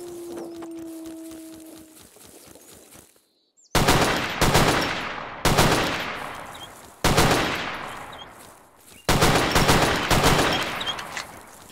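MKM (SKS) rifle firing in the ZERO Sievert video game, a handful of loud, close, sharp shots spaced a second or two apart, each with a long decaying tail, following quieter footsteps.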